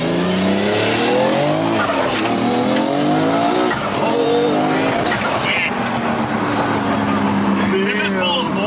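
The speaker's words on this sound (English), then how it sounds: "It just pulls more and more as you get to the next gear." A 1996 Nissan R33 GTR engine revs hard and climbs through the gears, each pull rising in pitch and staying loud and close, while voices talk over it.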